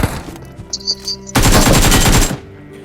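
An M416 rifle fires in a mobile battle-royale shooter, a few scattered shots giving way to a loud, rapid burst of automatic fire lasting about a second.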